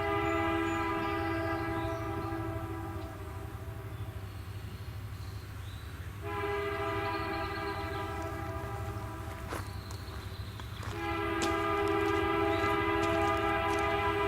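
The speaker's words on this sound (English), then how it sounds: "As the train comes into view" A freight train on the Bessemer and Lake Erie Railroad rumbles steadily nearby as it approaches, its horn sounding in long blasts, pausing briefly in between before blaring again.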